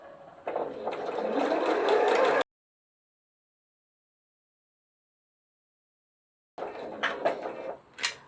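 A sewing machine stitches a glasses case in two close bursts, a steady whir of about two seconds followed by silence, then a shorter, more uneven run.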